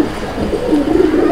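Pigeons coo close and loud, a low rolling call that swells and repeats through the moment with no talk over it.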